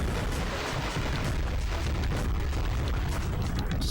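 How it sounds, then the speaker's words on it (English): Explosions in the Sega Saturn game Mass Destruction roll on in dense, heavy booms and rumbling blasts, loud and continuous with no pause and no voices. "They really wanted to make sure you heard those explosions."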